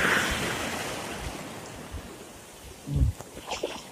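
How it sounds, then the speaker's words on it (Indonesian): Broad, steady rush of surf and wind noise along a rocky shore at Lhokseudu, Aceh, with a heavier wave surge swelling up near the end. "Ombak."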